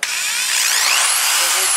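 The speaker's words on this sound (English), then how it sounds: "you can't beat the power of a corded drill" A corded power drill whines continuously at high speed, loud and close, its pitch rising slightly as it revs.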